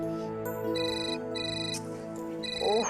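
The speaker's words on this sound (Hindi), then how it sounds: "ये फोन भी बार बार बज रहा है।" A telephone left in a bedroom rings with a steady, repeating electronic ringtone pattern, clear and fairly close, with no talk over it.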